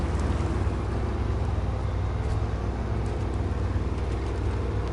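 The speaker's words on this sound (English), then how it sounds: "Can listen to the engine spooling away on the A&K." In the SnowRunner video game, the engine of an A&K truck spools with a steady, dense droning rumble. The sound holds an even level throughout, with no voices over it.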